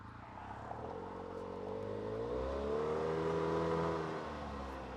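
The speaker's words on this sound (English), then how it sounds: "we're out enjoying our first ATV ride of the season" An ATV engine hums and revs on a dusk club ride near Conover, Wisconsin, its pitch climbing and holding as it accelerates, then easing back, steady and fairly close, with no talking.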